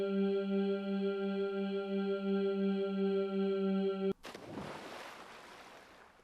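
In the video game Omori, a steady droning tone cuts off abruptly and gives way to soft ocean waves washing on a darkened beach, a low, diffuse surf that swells briefly and then fades.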